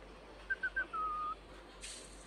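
A person whistles into a microphone while playing the game Evade: three short rising chirps, then one longer sustained note, close and clear over faint background hiss.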